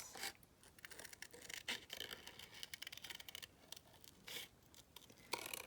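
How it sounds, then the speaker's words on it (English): Small scissors snip paper into junk journal tags, giving quiet, close, irregular cuts and rustles with occasional sharper scrapes, without any speech. "where's my baby scissors?"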